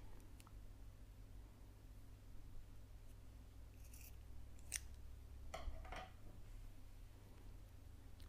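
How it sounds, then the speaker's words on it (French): Scissors snip through knitting yarn at the end of a large shawl, a few quiet crisp cuts over a faint steady background hum. "je vais couper mon fil."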